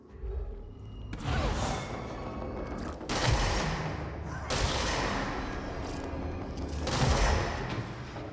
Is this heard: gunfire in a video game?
yes